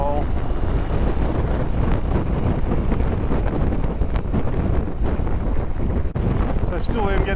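Steady wind buffeting roars around a rider on a Yamaha Tenere 700 motorcycle at speed, a loud continuous broadband rush that stays dense throughout.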